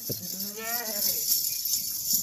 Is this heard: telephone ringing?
no